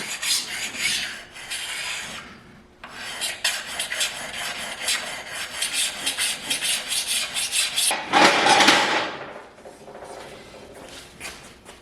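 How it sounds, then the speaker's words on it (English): A sharpening stone rasps back and forth along a freshly dressed steel edge to knock off the burr, during the build of a kindling splitter. It makes close, steady scraping strokes throughout, with a louder, harsher burst near the end. "Just going to sharpen this up with a stone. Take that burr off."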